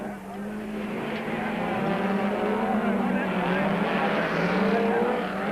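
A Ford race car is driven hard in a 1997 Super Series race, its engine roaring loud and close with a steady, rising and falling note throughout.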